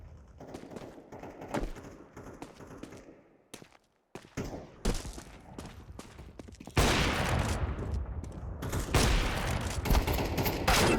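Rapid, loud gunfire from Counter-Strike 2 deathmatch, with scattered shots early on, a short lull, then dense continuous bursts dominating the second half.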